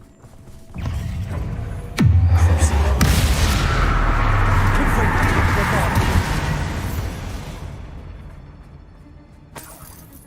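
A Bombarda spell explodes in Hogwarts Legacy, a sudden loud blast followed by sustained rumbling and crashing debris that slowly fades over several seconds.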